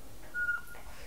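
A recorded bird call plays from a push-button bird sound book, one brief thin whistled tone lasting about a quarter second, faint against a quiet room background.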